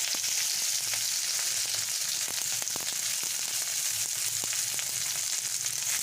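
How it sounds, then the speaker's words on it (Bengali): Onions fry in hot oil for a jute-leaf paat saag dish, giving a steady, close, dense sizzle with small crackles and pops and no talking. "এবারে আমি ওই তেলে পেঁয়াজ দিয়ে দেবো"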